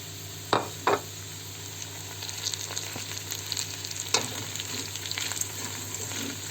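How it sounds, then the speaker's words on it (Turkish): Rice and peas stirred in a frying pan with steady sizzling, a couple of clear spoon clinks against the pan near the start and another later, close and without talking. "Güzelce karıştırıyorum."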